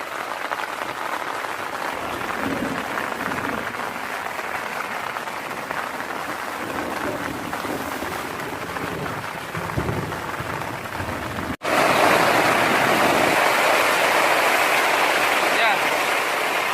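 Steady broadband rain falls at a mountain campsite on Gunung Sukamantri near Bogor, a dense continuous wash that suddenly grows louder and heavier partway through, with people talking faintly beneath it.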